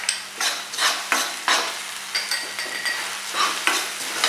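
Spring onion and spices sautéed in a hot pan for a Chinese corn appetizer, steady close sizzling broken by repeated scraping stirs at a loose rhythm, with no talk.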